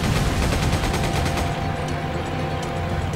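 Rapid machine gun fire in the Resident Evil 5 video game, a dense, continuous burst of gunfire at close range that fills the whole stretch, with no speech.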